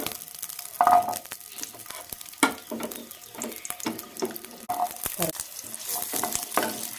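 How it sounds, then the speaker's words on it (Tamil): Around twenty small onions with bay leaf sautéing in a pan for mutton gravy, a steady close sizzle broken by repeated stirring scrapes, with a faint voice in the background. "லைட்டாக வதக்குங்க"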